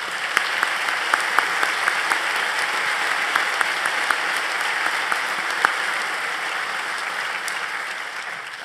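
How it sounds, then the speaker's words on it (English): Steady, sustained applause fills a large hall at a university convocation as deans stand, an even wash of many hands with a few sharper claps, lasting throughout. "Deans, please stand and let's give them all a round of applause."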